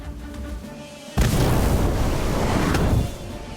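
An Incendio fire spell effect in the Harry Potter Magic Awakened game erupts abruptly as a loud, roaring burst of flame that holds for about two seconds, then drops back to a quieter background.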